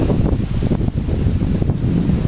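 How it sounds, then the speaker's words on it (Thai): Strong wind buffets the microphone at a freshwater fishing spot, a loud continuous roaring rumble with gusty surges throughout and no voices. "ลมแรงสุดๆครับ"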